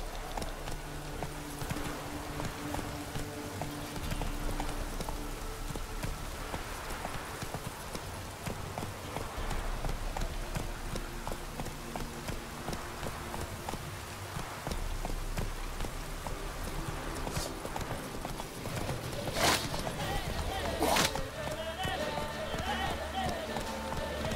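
Horse galloping in The Witcher 3 on PC, a steady clip-clop of hooves that runs the whole stretch under a constant hiss like rain, with a couple of sharper clicks near the end.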